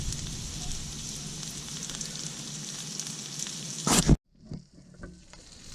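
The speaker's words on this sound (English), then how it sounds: "I'm just going to let it sweat just a little bit. I'm going to put a little bit of heat." Onions sweat in a pan over heat while cooking a chicken and vegetable stir fry, a steady gentle sizzle that cuts off abruptly near the end, followed by a few faint taps and clinks.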